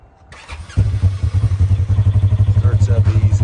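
A 2023 Polaris RZR XP 1000 side-by-side cranks briefly, then fires up and settles into a close, loud, steady loping idle with a rhythmic low throb.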